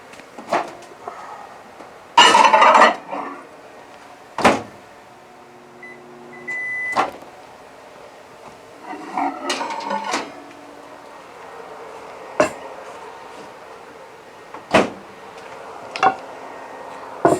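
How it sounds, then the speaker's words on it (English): Quiet hum of a running microwave oven heating freeze-dried shrimp stir fry, broken by scattered clicks, knocks and a door clatter, with brief beeps partway through. "I'm going to stick that in the microwave"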